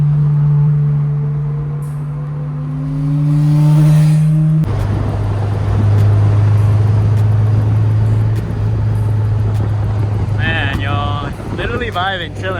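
Honda S2000 engine revving through VTEC, a loud tonal drone that shifts pitch sharply partway through and holds a higher sustained note, with wind buffeting and a voice talking near the end.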